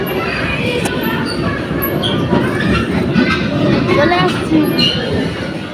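Heard from on board a moving train, a dense, loud rumble of carriage and wheels runs continuously, with faint squeals and rattles riding on top.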